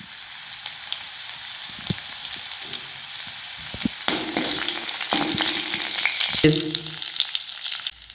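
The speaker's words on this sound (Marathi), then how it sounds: "आपला ऑइल गरम झालेला आहे आपण मोहरी टाकूया थोडा जिरा टाकूया बारीक ठेचलेली लसूण टाकायचं" Mustard seeds, cumin and finely crushed garlic hit hot oil in a pan, a steady close sizzle that swells louder halfway through, with scattered pops and spoon scrapes and no voices.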